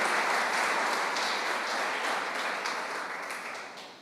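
A church congregation applauding, dense sustained clapping from a full room that holds steady and then slowly fades toward the end, with no voices over it.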